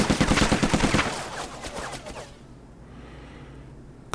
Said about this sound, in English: And then we're gonna fire.